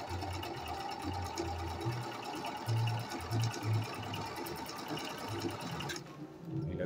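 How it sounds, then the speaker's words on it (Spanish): A Milenio metal sewing machine stitches fabric with a fast, even mechanical whirr and light rhythmic ticking, close and steady, stopping abruptly near the end. "tiene un sonido muy bonito la máquina, muy suavecita"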